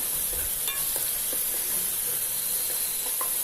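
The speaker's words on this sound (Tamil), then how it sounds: "இப்போ கொஞ்சமாக கருவேப்பிலை, கொஞ்சம் மல்லி, கொஞ்சம் புதினா நல்லா வதக்கிக்கலாம்." Tomatoes sautéing in oil with curry leaves, coriander and mint, a loud continuous sizzle close by with light scraping stirs and taps of a spoon, no talk.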